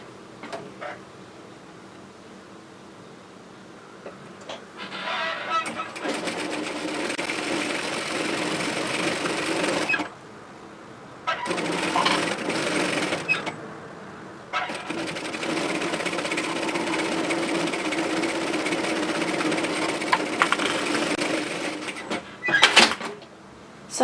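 A sewing machine runs a 6 mm seam on a rear-zip hoodie, its motor whirring in steady bursts separated by short pauses, close and fairly quiet.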